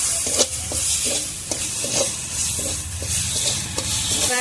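Spice paste with salt sautés in hot oil as it is stirred, giving a close, continuous sizzle broken by rhythmic scraping taps of the spoon against the pan, with no voices.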